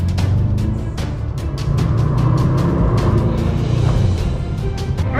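Mercedes-AMG GT63s exhaust crackling and popping on the street, a rapid series of sharp pops and bangs over a loud, steady engine drone, close and continuous.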